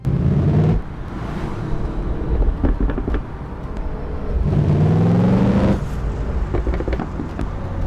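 A video game car engine in DayZ hums and rises in pitch as it revs and accelerates, then settles and revs again, steady and close throughout.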